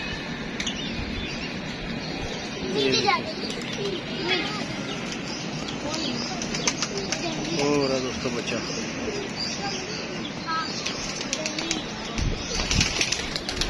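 Pigeons coo softly nearby amid busy outdoor ambience, with occasional wing flutters and chirps while someone talks over them.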